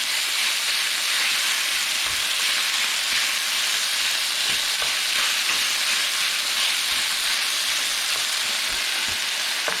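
Pineapple chunks and beef stir-frying in a hot pan, a steady loud sizzle with a hissing spatter that holds without pause, no voices.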